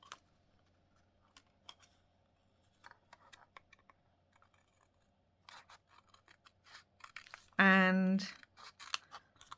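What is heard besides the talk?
scissors trimming paper for junk journal border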